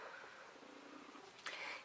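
Domestic cat purring softly indoors, a faint, close, steady rumble lasting under two seconds, with a brief higher sound near the end.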